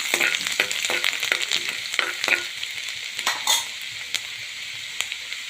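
Cumin and garlic crackle and sizzle in hot oil, with a steady hiss and several sharp pops and spoon scrapes against the pan, no talking.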